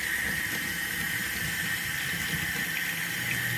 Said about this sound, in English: I'm going to fill it up here with water